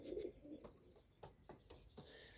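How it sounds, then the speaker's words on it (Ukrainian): Soft pigeon coos and brief flutters close by in a pigeon loft, a few short calls in an irregular rhythm against a quiet background. "Так що випускаємо цих голубів в голуб'ятню."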